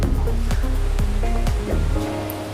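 Spices such as cumin powder and small shallots are ground with a little water into a fine paste, producing a loud, continuous whirring grind with shifting motor pitch.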